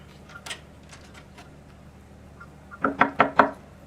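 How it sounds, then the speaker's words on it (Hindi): Knocking on a door in a Pakistani drama scene: a brief pair of faint raps early on, then a louder, closer burst of three or four firm knocks toward the end, with no voices present. "कब से खटखटा रही हो?"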